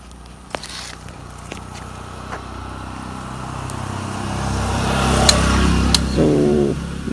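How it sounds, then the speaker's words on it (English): A Royal Enfield Thunderbird 350 motorcycle with an aftermarket exhaust, in worn pre-restoration condition, runs with a steady low, throbbing exhaust note that swells louder toward the end, with a few sharp knocks. "I just want you to hear the sound or the exhaust note of this bike"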